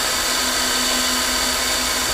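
A power tool spins a Phillips bit to ream out a .223 brass primer pocket, giving a steady, loud, high-pitched whir that holds unbroken and close by.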